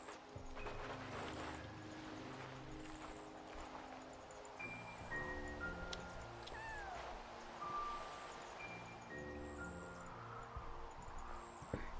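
A cat in the video game Yonder meows faintly now and then over steady game music with chiming tones, the cries thin and distant rather than close.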